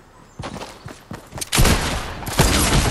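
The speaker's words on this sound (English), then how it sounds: "Wow, I got sniped straight up." Rapid gunfire in Fortnite, a series of sharp cracks and bursts at mid distance followed by a denser, louder volley, with no talk over it.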